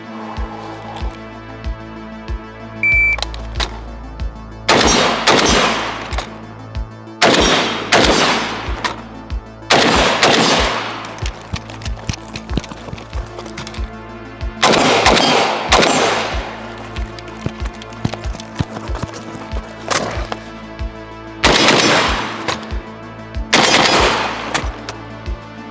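Bursts of rapid gunfire in a timed shooting drill, six loud strings separated by brief pauses for magazine reloads, each volley sharp and close.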